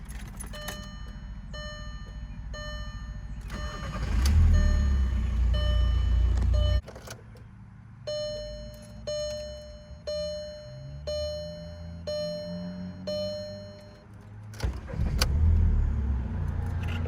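2005 Volkswagen Jetta TDI manual with a high-mileage diesel: repeated warning chimes, a short starter crank, then a low engine rumble settling into idle as the chimes continue, with bursts of nearby handling noise.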